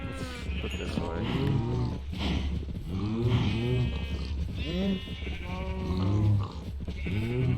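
Cows and other farm animals in the video game Minecraft, repeated lowing moos and bleats overlapping one after another throughout, fairly close and steady, with someone talking over them.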